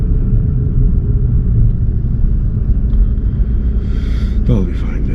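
A car's engine runs during a learner's mock driving test, a steady, loud, low rumble throughout, with a short higher rattle near the end and no voices heard.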